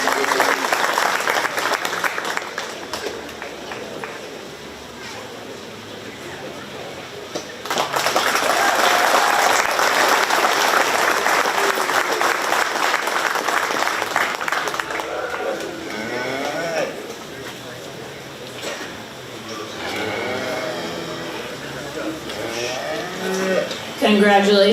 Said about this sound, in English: let's give these young people a big round of applause